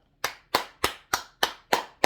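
Hand clapping in a slow, even rhythm, seven sharp claps close to the listener against an otherwise quiet room.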